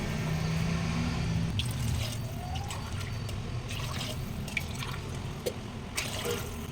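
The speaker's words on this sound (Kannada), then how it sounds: "ಇವಾಗ ಅದೇ ಅಳತೆಯಲ್ಲಿ 6 ಗ್ಲಾಸ್ ನೀರು ಹಾಕೋತಾ ಇದ್ದೀನಿ." Water is poured from a glass into a pot for mushroom biryani, a soft, fairly quiet trickle and splash with a few small drips and clinks near the end.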